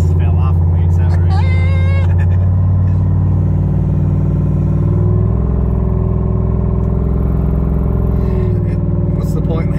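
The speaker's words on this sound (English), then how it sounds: "loud in here because the exhaust dumps down right in front of the passenger front tire" A turbocharged Chevy Blazer SS roars loudly under acceleration, its dumped exhaust giving a deep, sustained droning rumble heard from inside the cabin, with a voice speaking briefly over it.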